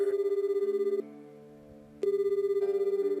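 Phone ringing tone from the video game Da Capo 2, heard after a cell phone number is dialed: two steady electronic rings, each about a second long, with a pause between them and a third beginning, clear and close.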